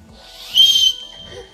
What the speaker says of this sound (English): I can whistle pretty loud.